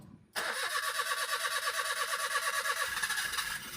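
A motorcycle engine catches abruptly after a brief silence, then runs at a steady, buzzing idle with a rapid, even pulse throughout, fairly loud and near.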